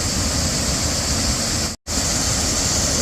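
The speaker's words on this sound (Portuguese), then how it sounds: "Que linda cascata é essa. Impressionante o caudal aí no meio." Steady, dense roar of a large waterfall with heavy flow in a national park in Croatia, loud and continuous, broken only by a brief cut near the end.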